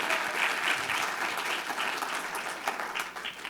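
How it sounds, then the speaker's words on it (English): Audience at Utah Valley University's 2020 State of the University address claps steadily, a full, sustained round of applause that eases slightly toward the end, with no speech over it. "I totally support those claps"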